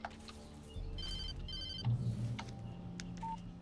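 An old-style telephone rings inside the Alan Wake video game, sounding as a series of bright, repeated electronic ring bursts over a low ambient hum, moderately loud and close, with no voices.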